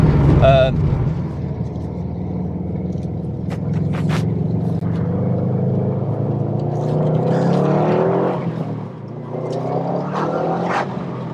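A Subaru Impreza WRX STI with a 2.5-litre engine and all-wheel drive accelerates, its engine note rising in pitch through the gears with a brief dip partway, while someone talks over it.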